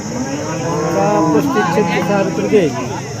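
Several loud, drawn-out cow moos follow one another with wavering pitch, close by, over steady outdoor background noise at a cattle market in Sangola.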